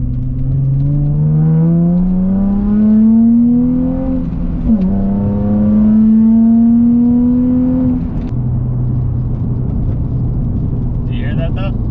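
A Nissan 350Z accelerates hard up an on-ramp, its engine note rising steadily through the gears from inside the cabin, with a brief dip at a shift midway and a settling drone near the end.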